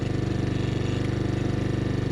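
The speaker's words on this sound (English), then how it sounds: "engine at full throttle, and I'm going to push forward" Honda HRX217HZA walk-behind lawn mower engine held at full throttle with the blade not yet engaged, a steady, close, rapidly pulsing mid-pitched drone that holds constant throughout.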